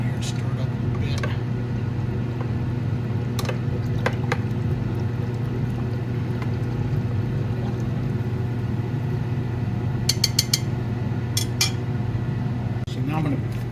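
A lye, sugar and silver chloride mixture is stirred in a glass beaker, giving a few sharp clinks and scrapes of glass over a steady low mechanical hum.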